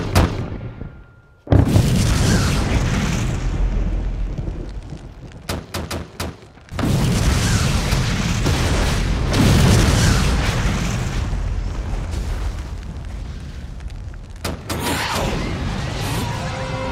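Artillery shells fire and explode in an anime battle scene, with repeated heavy booms and rumbling blasts, brief gaps of near silence between volleys, and sustained roaring detonations.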